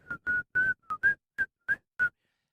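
Someone whistles a short tune of eight brief notes, each a clear pitched tone with breathy edges, separated by short pauses.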